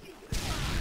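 Gunfire in the shooter game Modern Warfare 2: after a quiet moment a dense, loud burst of shots erupts suddenly and continues as sustained rapid fire through the remaining instant.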